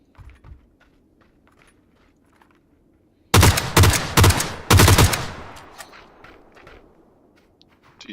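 Gunfire in the battle royale game PUBG rings out in three sharp bursts of rapid shots, loud and close, set between stretches of quiet footsteps and faint rustling.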